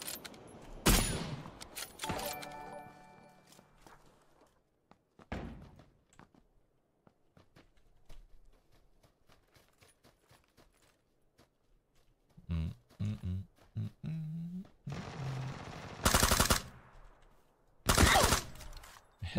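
Gunfire in the battle royale video game PUBG: scattered sharp shots and a few bursts spread across a tense fight, some loud and close, others softer, with quiet stretches between them.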